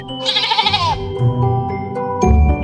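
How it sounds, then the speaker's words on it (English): A sheep bleats in a children's ABC rhyme, a wavering, quavering cry with a bright nasal tone lasting under a second, then dropping into lower sustained tones. Music continues underneath and it ends with a louder low thump. "S is for sheep."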